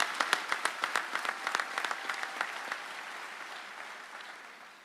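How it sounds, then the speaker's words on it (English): Applause at a sheriff's department academy graduation ceremony, a burst of crisp individual claps from a moderately sized audience that thins and fades away over a few seconds. "we applaud you"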